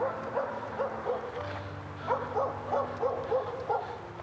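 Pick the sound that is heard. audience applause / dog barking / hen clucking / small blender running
dog barking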